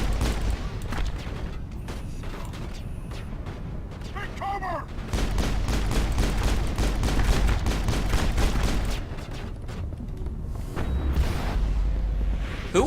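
Gunfire in the sci-fi shooter Mass Effect, dense bursts of rapid shots and booms that keep going almost without a break, loud and close in a busy firefight.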